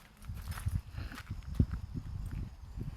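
Horses on a horse farm walk close by, their hooves making a steady, uneven clip-clop on the ground with soft thuds and shuffles, fairly faint and without speech.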